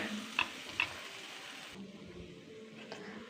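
Coriander, turmeric and chilli powder roast in a pan, giving a quiet, steady sizzle with a couple of sharp utensil clicks early on; no one speaks.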